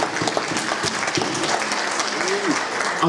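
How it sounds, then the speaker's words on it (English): A church congregation claps in praise, a steady wash of applause filling the space at even loudness, with some voices mixed in beneath it. "Give God a hand clap of praise."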